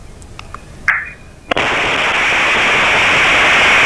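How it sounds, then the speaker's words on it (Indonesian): A sharp bang, then a sudden loud blast as a 12 kg gas cylinder explodes in a house, turning into a steady roaring hiss, heard through a CCTV camera microphone. "Detik-detik ledakan sebuah rumah terekam kamera pengawas atau CCTV"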